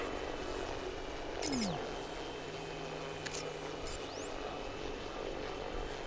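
An automated drone hovers with a steady airborne engine drone, heard among a soldier's surroundings in the Batman Arkham Knight video game, with sweeping whooshes and brief electronic bursts over the continuous hum.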